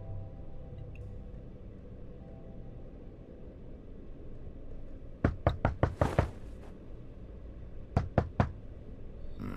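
Knocking on a door in The Wolf Among Us video game: two bursts of sharp knocks, five or six quick raps and then three more, loud over a steady low room hum.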